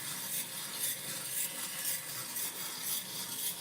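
Coffee beans tumble steadily inside a drum roaster during a roast toward 438 degrees, giving a continuous dense rustling hiss with a faint rhythmic swell about every half second, close and even, with no talk.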